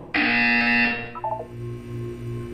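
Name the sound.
buzzer sounding in the Portal video game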